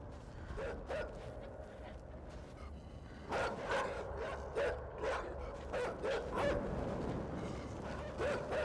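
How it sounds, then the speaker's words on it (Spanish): Several dogs bark in a scattered series of short, loud yelps and woofs, some near and some farther off, over a steady background hum with no talking. "Se escuchan perros o algo, ¿no?"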